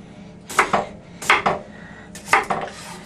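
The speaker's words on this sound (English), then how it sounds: "Here's a nice, not too sharp knife." Fairly loud, close knife work on potatoes against a cutting board, with three clusters of sharp knocks and scrapes over a low background hum.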